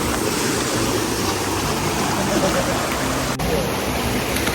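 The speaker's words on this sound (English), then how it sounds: "Still walking in the water. It's ice cold water" Steady broadband rush of a cold, slippery freshwater stream flowing around someone wading through it at a resort, continuous and close with no talk.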